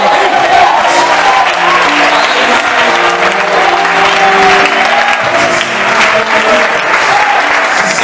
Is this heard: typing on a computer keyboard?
no